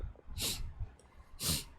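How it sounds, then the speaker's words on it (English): Two sharp, breathy sneezes about a second apart, loud and close, over a faint low background murmur. "I'm gonna sneeze."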